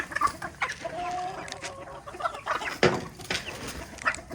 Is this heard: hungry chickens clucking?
yes